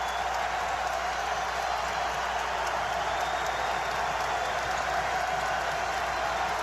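Basketball arena crowd at a college game, Gonzaga against Tennessee, keeps up a dense, steady roar of cheering and applause, loud and continuous throughout with no single voice standing out.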